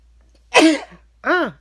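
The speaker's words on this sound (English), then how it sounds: "excuse me, I'm about to sneeze." Two quick bursts of a person sneezing, a sharp first one and a shorter second, close and fairly loud with quiet around them.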